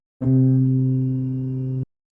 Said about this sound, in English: this bass one shot got this subtle guitar in it